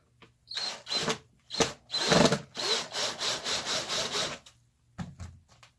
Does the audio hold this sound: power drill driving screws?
yes